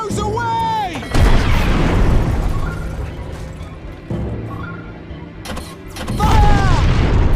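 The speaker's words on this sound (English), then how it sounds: "Torpedoes away!" Torpedoes launching and exploding in the Treasure Planet: Battle at Procyon game, heavy booming blasts at the start, middle and end with rumbling decay between, loud and close, with brief voice-like calls and mechanical noise.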